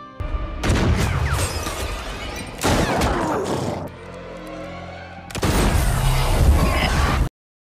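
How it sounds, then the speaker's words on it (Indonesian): A film gunfight, with loud sustained bursts of gunfire and crashing impacts in three long volleys separated by a brief quieter stretch. "Setelah sebelumnya mengamankan Charlotte, baku tembak pun tak terhindarkan"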